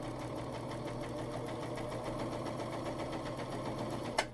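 A PFAFF admire air 7000 serger stitching a 3-thread rolled edge with a corded wavy foot, running steadily with an even, fast mechanical whir throughout and a small click at the end.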